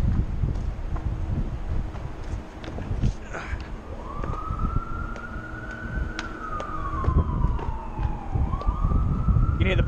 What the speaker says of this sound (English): You can hear the police sirens already going.